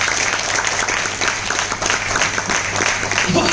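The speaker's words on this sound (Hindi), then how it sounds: "इंसान के लिए जोरदार तालियां" Loud, steady applause from a seminar audience in a hall, dense clapping filling a few seconds continuously with a slight crowd murmur and no voices on top.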